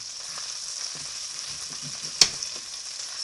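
Hashbrowns fry and get stirred in a pan: a steady, dense sizzle runs throughout, broken by one sharp utensil clink near the end.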